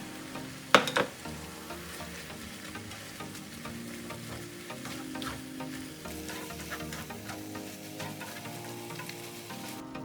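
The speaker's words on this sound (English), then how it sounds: "Add sliced onion and white part of large green onions. Fry it over high heat for about 3 minutes" Kimchi with sliced onion and green onion stir-fries over high heat in a pan, giving a steady close sizzle with scraping stir strokes and one sharp clatter near the start.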